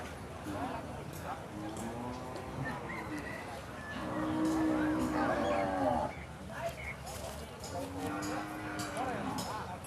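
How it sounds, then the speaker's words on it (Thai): Cattle and buffalo low repeatedly at a busy open-air livestock market. Several drawn-out moos, some near and loud, rise over a steady crowd murmur and background chatter. "ควายก็มีพี่น้องควายก็มีวัวก็มี"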